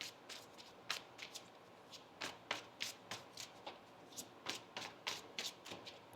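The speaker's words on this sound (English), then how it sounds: "One more shuffle here." Tarot cards are shuffled by hand in quick riffling bursts, a series of soft papery flutters and taps repeating close up in a quiet room.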